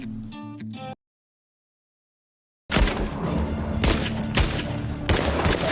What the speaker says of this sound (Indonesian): Tembak-menembak pun berlanjut